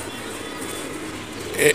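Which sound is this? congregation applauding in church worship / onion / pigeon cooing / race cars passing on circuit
pigeon cooing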